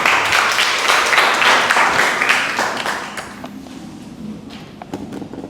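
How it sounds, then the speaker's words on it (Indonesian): An audience in an Indonesian classroom breaks into brief applause, a burst of dense clapping that fades after a few seconds into scattered taps and room noise. "Oke, aplaus, beri aplaus."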